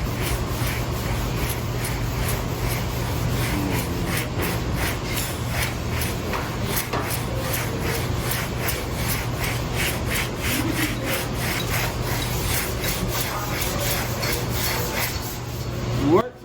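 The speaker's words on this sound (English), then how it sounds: "The next part is sanding." Steady rhythmic sanding of dried body filler, a back-and-forth scratchy rasp repeating continuously at close range with no talking.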